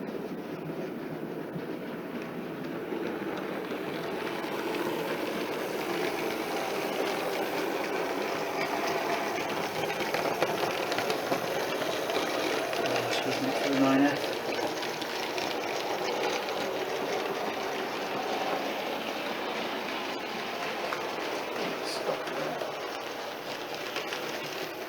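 A Q1 model locomotive runs steadily on a model railway, a continuous soft mechanical whir and rattle at moderate distance, with no talking.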